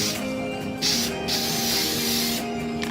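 Rust-Oleum satin clear coat hisses out of an aerosol can in steady, close bursts, lightly coating a guitar box amp build, with no talking.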